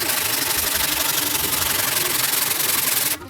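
A 12-string guitar body being sanded by hand down to the bare wood: a loud, close, continuous scratchy rubbing in quick strokes that stops abruptly at the end.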